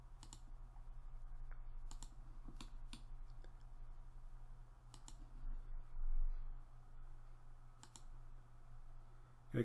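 Computer mouse clicks while modelling in 3D software, a handful of sparse, quiet, sharp clicks spaced a second or two apart over a low steady hum.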